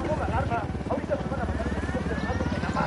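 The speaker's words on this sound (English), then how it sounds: "Helicopter." Helicopter in the video game Ghost Recon Wildlands, a steady rotor drone that holds loud and continuous throughout, with game noise mixed in.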